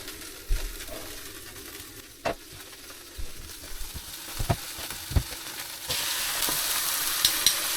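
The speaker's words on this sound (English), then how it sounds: "let's get it in a skillet and get it frying" Food sizzles steadily in a hot skillet at a campsite, with a constant crackling hiss and scattered louder pops and spatters that grow a bit brighter toward the end.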